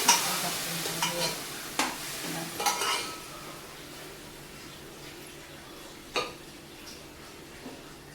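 Pav bhaji vegetables frying in a pan as a spoon stirs and mixes them: a soft, steady sizzle under scattered scraping strokes and light clinks, fairly quiet and close.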